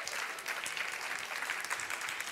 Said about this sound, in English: Big applause for Mariana, amazing.